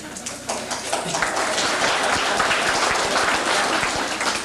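Sustained audience applause fills a club ceremony hall, dense steady clapping from many hands at close range with no talk over it.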